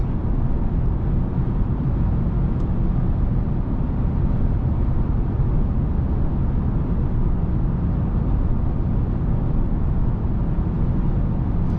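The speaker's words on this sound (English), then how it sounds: "So now let's accelerate to 113 kilometers per hour" A 2022 Mercedes C300 sedan accelerates toward 113 km/h a little uphill into a headwind, giving a steady, loud interior drone of engine and road noise without talking.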